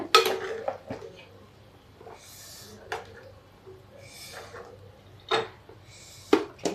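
A whole-cauliflower sabzi (sabut gobhi curry) is served from the pan, with a few distinct metallic clinks and scrapes of a spoon against the cookware separated by quiet pauses.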